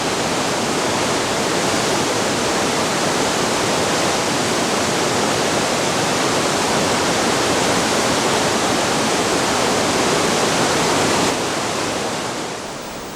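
The Cinca river in Aragon rushes and foams, a loud, dense, unbroken roar of churning water that holds steady before easing slightly at the very end.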